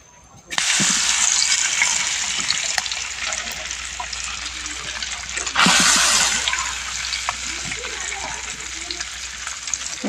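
Turmeric- and chili-marinated fish drops into hot oil with a sudden loud, steady sizzle that keeps crackling close by, swelling again midway as more pieces go in.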